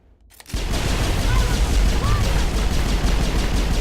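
Sustained gunfire and combat noise from a firefight in the video game Mass Effect on hardcore difficulty, with a sniper shot striking the squadmate Garrus; a dense, loud barrage starts abruptly after a quiet moment and continues without pause.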